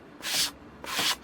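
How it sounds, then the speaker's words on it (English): Two short, rasping strokes of sandpaper rubbing against wood, close up, with a brief pause between them. "whenever we're doing any sanding"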